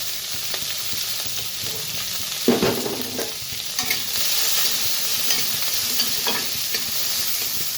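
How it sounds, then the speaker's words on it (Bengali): Steady sizzling of onion and green chili frying in a pan, with occasional scraping stirs and clacks of a spatula; no voices. "দিয়ে দেবো কাঁচা লঙ্কা, দিয়ে ভালোভাবে নেড়ে চেড়ে নেব"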